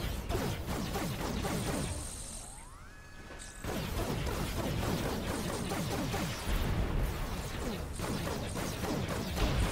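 Video game Infamous First Light: a helicopter is shot down amid dense crashing, whooshing and mechanical impact sounds, a short lull with a rising tone midway, then sustained loud destruction noise, no voices.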